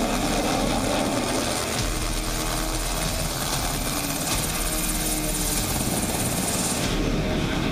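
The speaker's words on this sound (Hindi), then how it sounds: "सारंग हेलीकॉप्टर और सूर्य किरण ने पहली बार एक साथ आसमान में दम दिखाया।" Sarang display team helicopters flying at the Aero India air show in Bengaluru, a loud, constant rotor and engine roar filling the whole stretch without speech.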